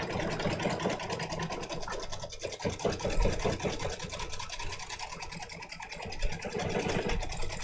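An embroidery machine stitches a free-standing lace design with a steady, busy mechanical whirr and rapid needle chatter that runs without pause, moderately loud throughout.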